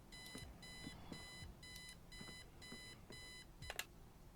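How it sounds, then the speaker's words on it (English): An alarm clock rings in the point-and-click game Kathy Rain, giving bursts of rapid electronic beeps in an even repeating rhythm, fairly quiet and alone. "I set the alarm so you won't miss the funeral"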